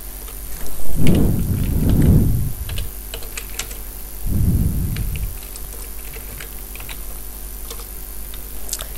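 Rain falls steadily in the Minecraft video game while two deep rolls of thunder rumble through, the first longer and stronger, the second shorter, with faint clicks scattered over the hiss.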